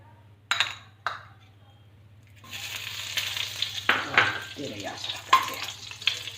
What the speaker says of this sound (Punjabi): ਆਪਣੀ ਕੜਾਹੀ ਗਰਮ ਹੋ ਗਈ ਆ ਆਪਾਂ ਹੁਣ ਇਹਦੇ ਵਿੱਚ ਘਿਓ ਗਰਮ ਕਰਾਂਗੇ